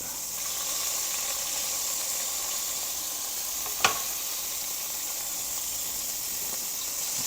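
Seafood sears in hot oil in a sauté pan, giving a steady, close sizzle that runs unbroken throughout, with one sharp brief tick near the middle.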